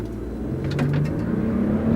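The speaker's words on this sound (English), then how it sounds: "The turbos are kicking in. It's got plenty of acceleration." Toyota pickup truck with 389 horsepower accelerating hard on a straight road as the turbos kick in, a loud steady engine drone heard from inside with a rising tone.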